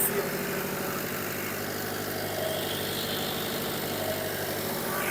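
A Mitsui diesel generator running close to its rated load of about 46 kW, a steady, even engine hum and vibration with no dips in speed, close by, with a person talking over it.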